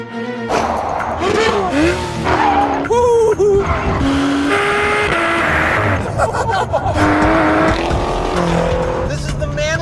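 A 2014 BMW M235i or Mercedes-Benz CLA45 AMG drifts with loud, sustained tire squeal over a roaring engine, the squeal rising and falling in pitch, with someone talking throughout.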